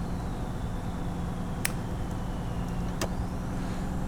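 Truck engine in the Truck World Australia video game, a steady low drone climbing a hill under quick acceleration, with a couple of brief sharp clicks over the constant hum.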